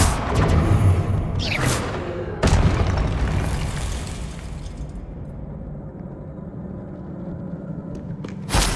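Confringo explosive spells in the Hogwarts Legacy video game detonate as loud booming blasts, two sharp hits early on, then a long rumbling decay, with another impact right at the end.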